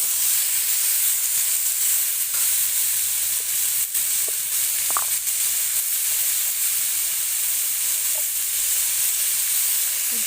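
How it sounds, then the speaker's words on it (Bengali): Fish curry with bata fish, cauliflower and potato frying in a pan after salt is added, giving a steady, loud hiss and sizzle throughout with a few faint stirring clicks. "লবণ দিয়ে আবার ভালো করে কষিয়ে নেব"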